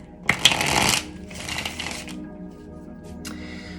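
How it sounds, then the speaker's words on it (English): Tarot cards riffle in a quick burst, then a second softer shuffle follows, with a light tap of the deck afterward, close and clear. "let's just give this one shuffle."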